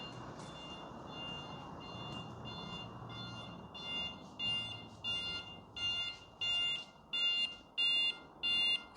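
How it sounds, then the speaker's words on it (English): A Mocreo H5 Lite hub sounds its audible alarm, a series of sharp, evenly spaced electronic beeps that start faint and grow loud and regular, about once per second, over a quiet hum. "And that is definitely an alarm going off."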